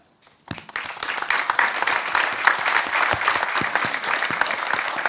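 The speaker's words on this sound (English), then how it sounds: "a big round of applause to all of them" Audience applause at a talk on protecting the oceans. Clapping breaks out after a brief quiet moment, then swells into steady, dense applause that holds until the end.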